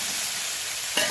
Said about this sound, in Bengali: ওই তেলের মধ্যে আমি দিয়ে দেবো চিচিঙ্গাগুলো